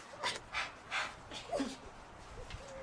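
A dog panting outdoors on a hillside, with several rhythmic breathy pants in the first two seconds followed by fainter breathing, fairly close and with no talk over it.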